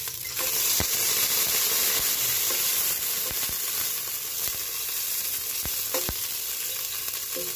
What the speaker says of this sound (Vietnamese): Và các bạn phi hành thơm lên.